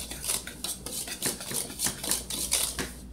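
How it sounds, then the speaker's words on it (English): Sugar and flour whisked in a bowl for a cobbler batter, a quick rhythmic run of metallic taps and scrapes against the bowl, close and fairly even, with no talking. "sugar to 1 cup of flour. And I'm going to whisk those."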